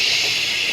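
An oil extractor pulls only air from the empty engine of a Yardworks riding mower, a brief, steady airy hiss at close range with no other sounds.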